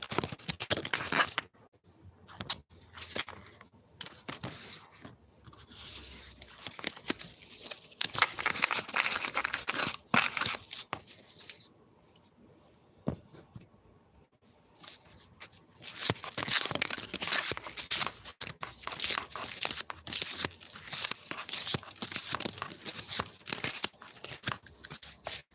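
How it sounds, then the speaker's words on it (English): A deck of playing cards is shuffled by hand near the microphone, with bursts of riffling and crisp card slaps separated by short pauses, then a longer stretch of rapid shuffling. "these are the ones I have chosen to shuffle today."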